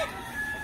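Roosters clucking and crowing in short bursts, close and fairly steady, with no talk.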